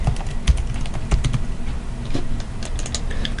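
Typing an email address on a computer keyboard: a quick run of close, crisp key clicks in uneven bursts, fairly loud and alone without speech.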